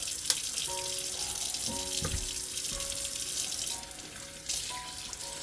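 Running tap water pours steadily into a thrifted stock pot being rinsed at a sink, a continuous close gush with faint clinks of the pot, dipping briefly in level before resuming.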